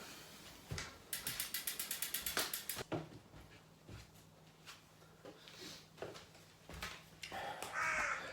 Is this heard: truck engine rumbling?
no